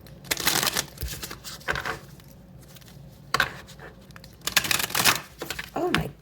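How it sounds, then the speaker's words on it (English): Tarot cards shuffled by hand in several bursts of quick, papery riffling and slapping, close and fairly loud, separated by short quiet pauses. "I like to show my shuffling."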